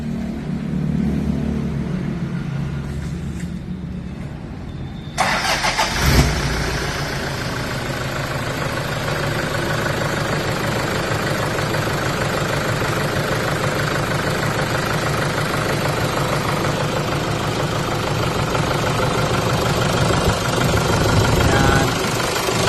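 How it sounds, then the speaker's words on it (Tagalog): A Toyota Hilux Vigo 1KD diesel engine cranks and catches, then settles into a loud, steady, knocking idle close by. "So pandarin natin yung makina."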